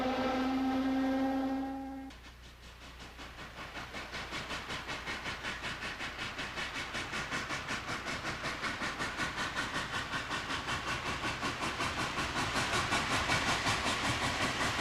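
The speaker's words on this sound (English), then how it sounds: "yet another Class A locomotive heads up a coal drag bound for Columbus" Norfolk and Western Class A steam locomotive hauling a coal train in 1957, a steady rhythmic chuffing and rolling rumble that builds gradually after a brief sustained whistle-like tone at the start.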